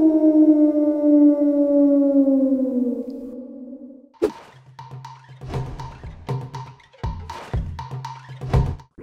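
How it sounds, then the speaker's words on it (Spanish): A wolf gives a long, steady howl with a slightly falling pitch that lasts about four seconds and then cuts off abruptly. Rough, pulsing growl-like sounds follow with no talking. "Fue un lobo."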